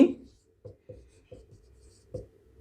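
Marker or chalk strokes on a board during a lesson, five or six short separate taps and scratches, close and fairly quiet, with no voice over them.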